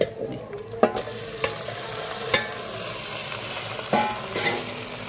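Washed goat head pieces frying in a pan over a wood-fired stove, a continuous low sizzle broken by sharp scraping knocks as the pieces are stirred, with no talking.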